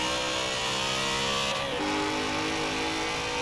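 A BMW M3 GTR race car engine from Forza Horizon 4 runs loud and steady for the whole stretch, with a brief shift in pitch midway as it revs on.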